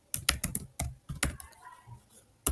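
Code typed on a computer keyboard in quick, close, clacky keystrokes, a fast burst of taps, then a short pause and one final key strike.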